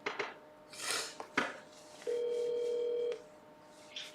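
Telephone call being placed, with a steady electronic tone lasting about a second after some clattering and handling noises, fairly quiet in an indoor room.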